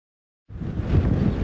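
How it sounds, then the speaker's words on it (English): Strong gale-force wind at an airfield roars into the microphone after a brief silence, a steady, loud, low rumbling buffet that holds to the end. "Look at that wind."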